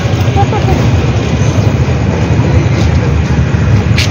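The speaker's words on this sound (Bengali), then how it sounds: "ট্রেন এসে গেছে" A train pulls into a station, its steady low rumble and rolling wheels filling the scene continuously and loudly, with voices faintly mixed in.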